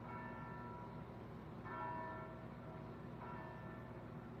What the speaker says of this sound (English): Y'all hear that bell?